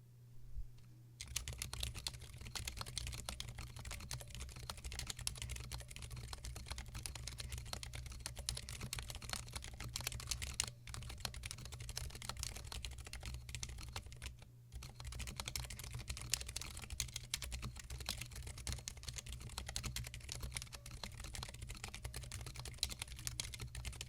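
Continuous rapid clicking of a Zilent V2 switch mechanical keyboard being typed on, close up, with brief pauses between bursts of keystrokes.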